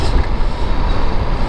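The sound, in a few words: dump yard lorry passing on road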